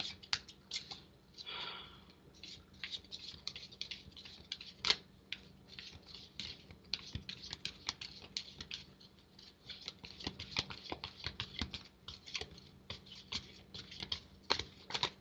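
Tarot cards are shuffled continuously, giving a rapid papery riffle of crisp flicks and soft taps, close and fairly quiet, with no talking.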